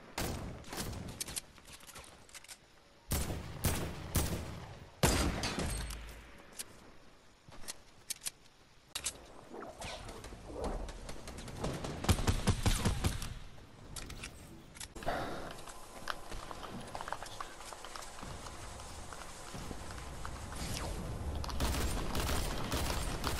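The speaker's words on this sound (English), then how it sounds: "Somebody was shooting me." Gunfire in the Fortnite video game, with bursts of rapid shots and sharp single cracks spread irregularly across the stretch, some loud and close, others fainter, with mechanical clicks between.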